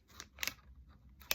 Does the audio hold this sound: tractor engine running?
no